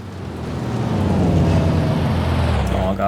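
Dense road traffic from the city-building game Cities Skylines II, a loud, continuous engine rumble and hum of many cars that swells and holds steady throughout.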